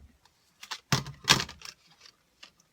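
A Big Shot die-cutting machine feeds a plate through, giving a run of irregular clicks and cracking snaps, with two louder crunching bursts in the middle amid quiet, close-up and with no talk.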